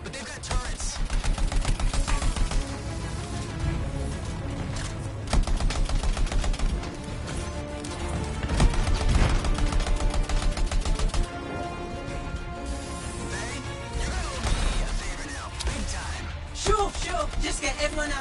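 Turrets firing in the Anthem video game: rapid, dense bursts of automatic fire that start and stop in repeated stretches over music and game noise, with some speech mixed in.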